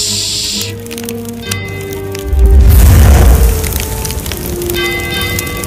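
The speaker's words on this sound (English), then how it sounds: "The castle is on fire!" A castle fire in an audio drama: a deep rumbling boom swells in the middle, with crackling and hissing noise over a tonal music bed, loud and with no voices.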